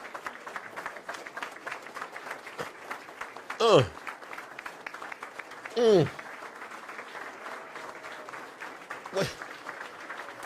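Crowd clapping at a political rally, a steady wash of applause running beneath close talk from a speaker throughout.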